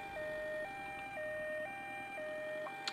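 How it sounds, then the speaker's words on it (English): Ambulance siren in the Ambulance Simulator video game, a steady two-tone wail alternating high and low about every half second, loud and continuous with no talking. "I'm starting to get a bit of a headache from the siren."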